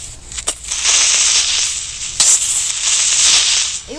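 TNT blasts in a crafting and building video game, a couple of sharp bangs followed by long hissing, crackling rumble, loud and close, with no talk.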